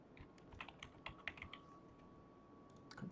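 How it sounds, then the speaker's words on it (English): Someone typing on a computer keyboard, a short run of soft, close key taps in an uneven rhythm with brief pauses, quiet and without talking. "then you'll type in your 2FA"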